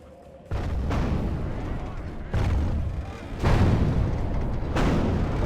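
Siege weapons firing in the medieval strategy game Medieval 2: Total War, with three or four heavy booming launches, each swelling into a long rumbling roar, loud and close.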